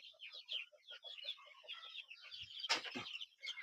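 Two-month-old chicks chirping and peeping steadily in a small flock while eating, with a brief louder squawk near the end.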